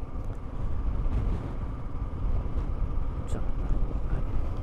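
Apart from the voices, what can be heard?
strong wind outdoors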